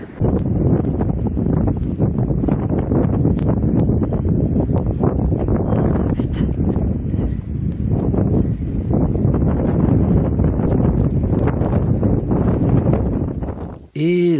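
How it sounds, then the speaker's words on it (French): Strong wind roars continuously across the microphone on the mountain ridges in the Vosges, loud and buffeting throughout with no breaks. "Ouh là là, il y a du vent."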